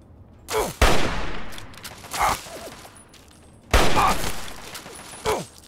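Gunfire in Fallout 3 on PC: two loud bursts of shots, each with a sharp crack and a decaying tail, plus a few lighter single reports in between, with no voices.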